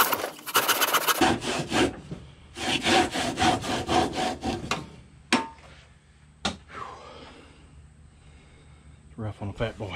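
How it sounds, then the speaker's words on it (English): A regular handsaw cuts through a rough wooden carving blank with quick rasping back-and-forth strokes in several bursts, broken by pauses, a couple of sharp knocks and a person talking. "I'm gonna cut some of the rough pieces off with a just a regular handsaw here"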